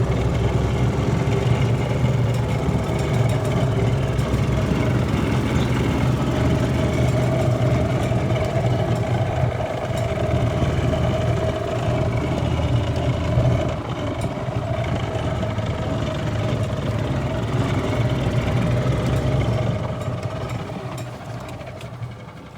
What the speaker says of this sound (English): Clutch sounds pretty rough with that belt, but it is driving.